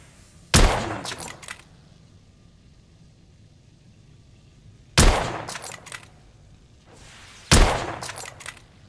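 Gunfire in the video game The Order: 1886, three separate loud, sharp bursts spaced a few seconds apart, each a quick cluster of cracking shots with echoing tails over low background ambience.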